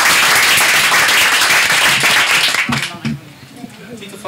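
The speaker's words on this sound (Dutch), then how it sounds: "Mag een applaus voor Bima en Rolf." Loud clapping and applause from an audience at a poetry club event in Rotterdam, fading out after a few seconds as a voice begins talking.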